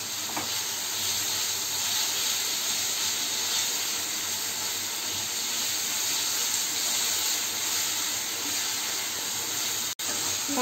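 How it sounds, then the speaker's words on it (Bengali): Ginger and garlic frying in a pan give a steady, close hiss and sizzle that runs unbroken throughout, with no voices. "পাঁচ মিনিট আমি আদা রসুনের একটা কাঁচা গন্ধ যতক্ষণ না যাচ্ছে না 5 মিনিট অবধি আমি ফ্রাই করব"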